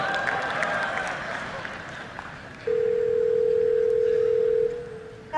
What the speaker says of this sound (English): the Google Assistant actually calling a real salon to schedule the appointment for you